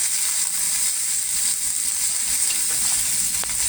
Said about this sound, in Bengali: এবার পেঁয়াজ রসুন আর ফোড়নের সাথে একটু ভালো করে ভেজে নেব